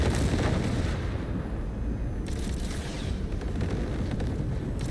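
Gunfire from enemies shooting at each other in the Cyberpunk 2077 video game, a dense, continuous barrage of loud shots and booms filling the scene without a break.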